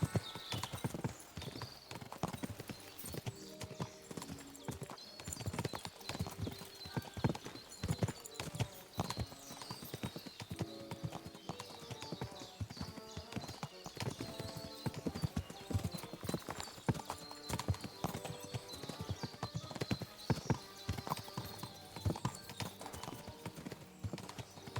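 Horse hooves clip-clop steadily and without a break while riding in Kingdom Come: Deliverance 2, a fairly quiet, even trotting rhythm with no talk over it.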